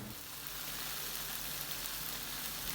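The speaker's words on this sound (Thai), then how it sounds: "เราก็ผัดจนน้ำพริกของเราแตกมันออกมานะครับ" Chili paste and tomatoes sizzle and fry in a pan for nam prik ong, a dense, continuous crackling hiss at a steady low level with no voices.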